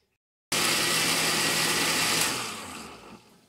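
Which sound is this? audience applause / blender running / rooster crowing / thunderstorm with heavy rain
blender running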